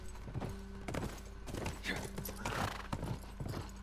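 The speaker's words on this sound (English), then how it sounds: "we're riding horses trying to get Ellie back" Horse hooves gallop in The Last of Us video game, rhythmic clip-clopping beats up close with snorts and whinny-like sounds mixed in, over game ambience and a faint voice.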